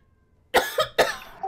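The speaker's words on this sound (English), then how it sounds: "I was in a coughing fit." Three harsh coughs in quick succession, close and loud, with brief pauses between them and no speech.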